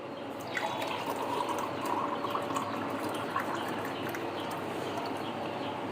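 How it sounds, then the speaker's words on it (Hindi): Falsa sharbat, a fruit juice, is poured from a container into a glass, giving a steady soft liquid splash and trickle that runs continuously at moderate distance with no talk. "अब इसे हम गिलास में निकाल लेंगे।"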